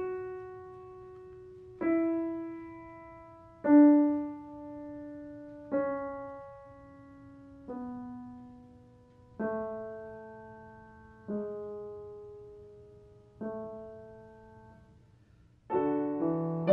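A single melodic line played alone, the middle voice of a song, heard as about nine soft, separate pitched notes. Each note sounds roughly every two seconds and decays gently, in a quiet, unhurried rhythm.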